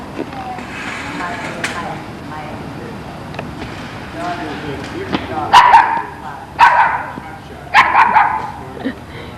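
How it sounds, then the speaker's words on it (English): A small dog yaps in a series of sharp, loud barks, sparse at first then in quick bursts toward the end, heard near at hand inside an airplane hangar amid background murmur. "Yapping dog."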